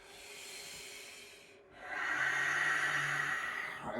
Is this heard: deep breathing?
yes